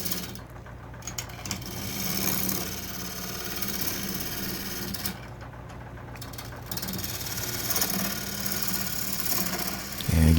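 A wooden bowl spinning on a lathe with the tailstock brought in for support, a steady low hum and rough scraping of the tool against wood that fades twice briefly, no talking.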